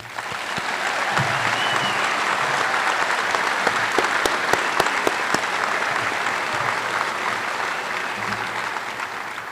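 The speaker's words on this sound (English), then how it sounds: "Let's give them one big round of applause." Dense, sustained applause fills a high school graduation ceremony as the audience claps for the graduating class, a loud steady wash of many hands with a few sharper nearby claps standing out.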